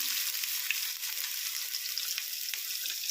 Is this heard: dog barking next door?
no